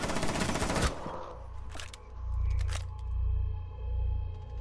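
Rapid automatic gunfire from a first-person shooter game crackles loudly in the opening second, then gives way to sharp single shots and a low rumbling hum.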